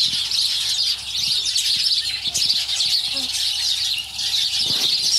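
Backyard chickens on a homestead on a chilly morning give scattered chirps and squeaky calls over a dense, steady background hiss, fairly close and continuous.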